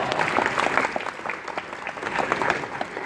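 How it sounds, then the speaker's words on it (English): A crowd bursts into applause, dense, lively clapping for a few seconds, fairly close and fairly loud, with scattered voices mixed in. "Mr. Ron, I'll give him a round of applause."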